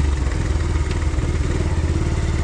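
A motorcycle engine runs close and loud on a solo ride toward Nagarkot, holding a steady, throbbing drone for the whole stretch with no talking.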